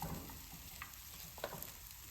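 Raw banana pieces fry with chili powder in a pan, giving a low, continuous sizzle with occasional soft stirring scrapes, quiet and close.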